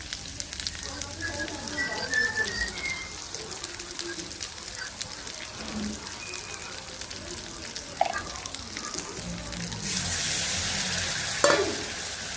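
Onions and spices frying in a pan for fish curry, a soft steady sizzle with occasional stirring scrapes, and a brighter hiss rising toward the end, fairly quiet throughout.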